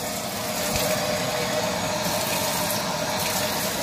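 Water pours into a pot as a steady, full rushing flow that stays even for several seconds, with no voices.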